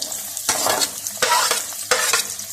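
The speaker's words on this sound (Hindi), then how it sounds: "उसी घी में मैं प्याज डालने लगी हूँ" Sliced onions sizzle and fry in hot ghee in a home kitchen, a steady crackling hiss broken by three louder bursts as they are stirred around the pan, close and with no voices.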